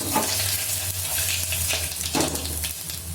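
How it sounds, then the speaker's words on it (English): Masala spices hitting a hot oiled pan for veg pulao give a steady, close sizzle with crackling bursts, with a few stirring scrapes, lasting about three seconds and heard alone without talk. "I'm just going to add all the masalas in this."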